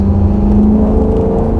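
Loud V8 of a C7 Corvette in track mode, cornering hard on a mountain road, a steady deep droning rumble throughout with no talk.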